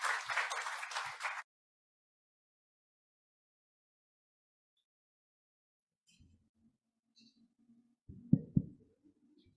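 A short burst of audience applause for the first session's panelists at the AIAC International Arbitration Colloquium 2023 in Kuala Lumpur lasts about a second and a half, then gives way to near silence with faint scattered knocks and shuffles.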